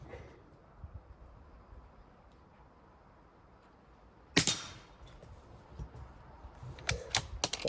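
Tikka T1X .22 Long Rifle firing at a target, one sharp crack after a quiet stretch, then a few more sharp cracks and clicks close together near the end.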